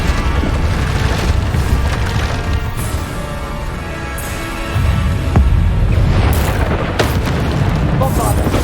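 Bombarda spell explosions in Hogwarts Legacy combat on hard mode, a loud continuous rumble of booms and bursts with sharp cracks layered over it, plus shouted voices.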